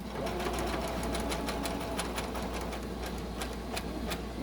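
A home sewing machine stitches fabric for a tube-style face mask, running at a steady, fast, rattling pace close up for the full few seconds.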